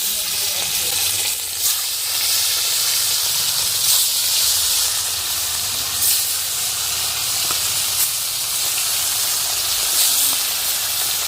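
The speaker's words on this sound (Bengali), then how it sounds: "তেলটা গরম হয়ে গেছে, একে একে মাছগুলো দিয়ে দিলাম।" Pieces of rohu fish fry in hot oil, making a loud, continuous hiss and sizzle up close, with small crackling bursts now and then and no voices.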